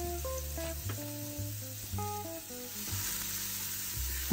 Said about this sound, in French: On va juste les faire blanchir rapidement, les faire revenir dans de l'huile.